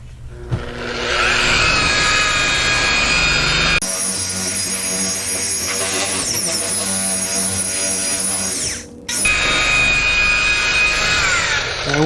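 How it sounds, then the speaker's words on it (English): A buffer polishes a painted panel with a loud, steady high-pitched whine that runs continuously, briefly dips and cuts out, then spins back up to full pitch. "these buffers are pretty noisy. They got a high pitch whine to them"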